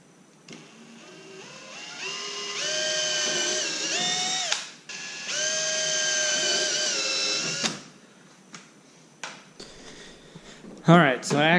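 A power drill with a 13/16 bit whines in two long sustained bursts while installing a splitter on a GT350, pitch rising as it spins up, followed by scattered clicks and short mechanical noises.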